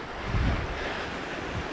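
Stream water flows beside a hidden waterfall in Harnoi, Abbottabad, making a steady, full broadband rush with a soft low thump near the start and no voices.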